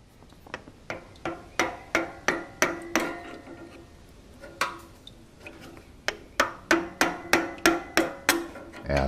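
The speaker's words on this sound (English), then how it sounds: "I'll try a smaller chisel on there." A hammer drives a small chisel against the water pump of a Ferguson TO-20 tractor in a series of sharp metallic strikes, steady taps in two runs with a short pause between.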